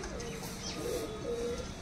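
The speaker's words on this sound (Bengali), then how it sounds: "এবারের কবুতরগুলো প্রত্যেকটা কবুতর সব রমেশ ভাইয়ের থেকে আনা" Several pigeons coo softly and continuously inside a breeding loft, low murmuring calls overlapping against steady background noise, with no talking.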